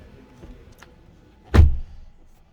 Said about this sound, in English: Oh, such a loud thud.